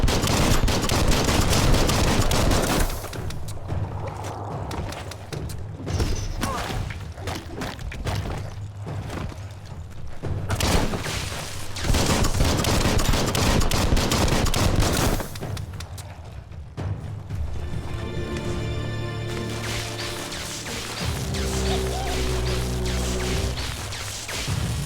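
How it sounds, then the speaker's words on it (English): Gunfire fills a Biomutant battle: dense, loud bursts and rapid volleys roll on for the whole stretch. Brief lulls break it up, and booming impacts land near the end. "Bullets everywhere."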